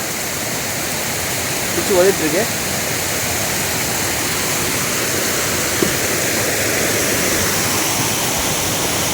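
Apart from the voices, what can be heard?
rushing lake water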